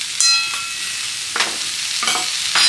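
Spiced singara filling with garam masala stirred in a hot pan: a constant close sizzle broken by four scraping spoon strokes at uneven intervals, with no talking.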